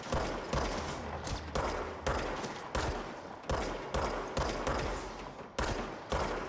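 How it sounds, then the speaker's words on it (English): Shotgun blasts from the video game Control, in the MyHouse.wad level, boom out one after another at roughly half-second to one-second intervals, each sharp report trailing off before the next, loud and alone. "I like the shotgun more."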